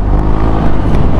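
A Honda Click 125i scooter fitted with a new aftermarket muffler, revving up briefly with a loud, steady engine drone, close to the microphone and without voices.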